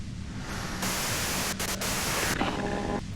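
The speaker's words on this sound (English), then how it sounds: "If you've got something really important to say, you can do it through the white noise." Loud, continuous radio static hisses from a radio in the video game Disco Elysium, a dense wash of white noise with a few brief dips and a slight shift in texture toward the end.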